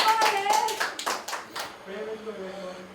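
An audience at a Kannada comedy show claps in a burst of scattered handclaps for about two seconds, then fades into quieter background murmur and a sustained tone.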